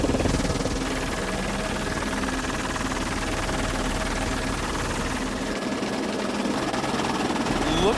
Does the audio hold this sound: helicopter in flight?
yes